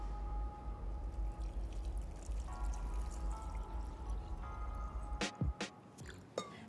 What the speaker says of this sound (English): I'm just gonna go ahead and pour the pickling liquid onto my red onions